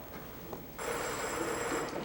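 A telephone rings on stage during a high school drama production, a sudden electric ringing that starts after a short quiet moment and carries on steadily.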